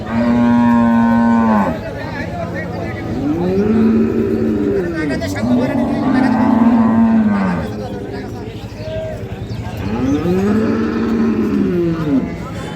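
Improved-breed dairy cows with calves at Ambari cattle market low in several long, loud, close moos, one after another, while people talk and bargain around them.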